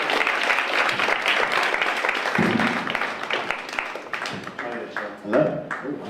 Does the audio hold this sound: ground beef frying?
no